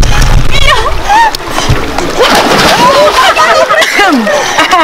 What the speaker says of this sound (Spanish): hace un giro cerca de la piscina y cae al agua